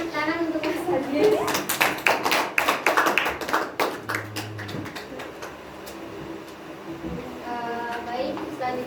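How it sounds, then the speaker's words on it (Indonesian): A group claps in a brief burst of uneven hand claps that fades out, with voices talking around it. "Beri tepuk tangan untuk Mas Fadil."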